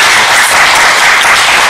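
A church congregation claps together in a dense, loud, continuous burst of applause that fills the short moment with no voices on top.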